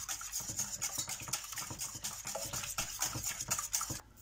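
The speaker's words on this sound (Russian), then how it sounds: "и вот так вот размешиваю их в однородную массу" Egg and milk mixture being stirred in a bowl, a steady close scraping and swishing of a utensil against the bowl with quick repeated strokes, heard alone.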